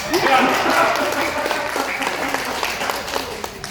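Attendees at a marketing plan presentation clap, a brief burst of dense applause that thins out, with some crowd murmur mixed in.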